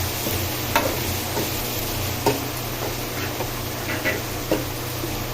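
Onion, tomato, ginger and garlic sauté in a pan for a prawn curry, producing a low, even sizzle with sporadic spatula taps and scrapes against the pan.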